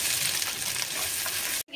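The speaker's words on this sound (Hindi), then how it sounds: "ये हमने तकरीबन 3 शिमला मिर्च लिए हैं, इनको क्यूब शेप में काट लिया है। अब हम इनको फ्राई करेंगे।" Cubed bell peppers frying in hot oil make a dense, even crackling sizzle close up that runs almost two seconds before stopping abruptly.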